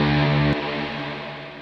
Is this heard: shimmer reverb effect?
yes